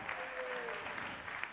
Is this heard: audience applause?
yes